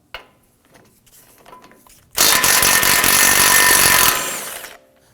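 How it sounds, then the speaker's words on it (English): An impact gun on a 21mm lower ball joint nut of a 2015-2020 Ford F-150, one loud, sustained rattling burst of about two seconds that then tapers off, following quiet handling noises. "We're going to use our impact gun."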